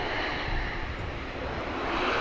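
A Ryanair airliner landing on the runway at Manchester Airport, its engines giving a loud, steady broadband roar that holds for the full stretch and swells slightly near the end.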